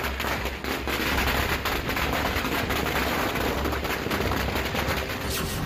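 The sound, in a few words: gunfire and fireworks at a Holi war re-enactment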